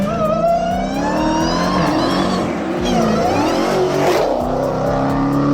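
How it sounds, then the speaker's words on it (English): A Dodge Hellcat's supercharged V8 roars close and loud as it accelerates, its rising engine tone running steadily through the whole burst with a brief dip and swell partway. "followed by a deep V8 roar that shakes the ground even with the stock exhaust"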